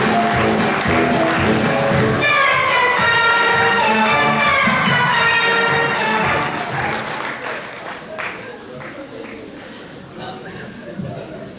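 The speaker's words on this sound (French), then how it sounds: "Je vous demanderai un tonnerre d'applaudissements pour les cuillères." Audience applause at a 2009 DJCE event, dense clapping swelling to a loud roar with shouts and whistles, then gradually thinning out toward the end.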